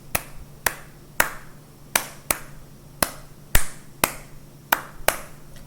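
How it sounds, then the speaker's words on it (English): Son clave rhythm struck on wooden claves: sharp, dry clicks in the familiar uneven pattern of five strokes, repeating twice, played alone against faint background hum. "For example, son clave sounds like this."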